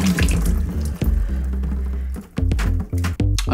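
Water runs steadily from a bathroom sink tap while someone splashes it onto their face, with uneven splashes and drips breaking up the close, continuous flow.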